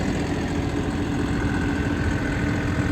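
A 5405 CRDi tractor engine pulling a 17-tine cultivator runs steadily at 1700 rpm, a continuous low rumble with a constant mechanical drone and no break.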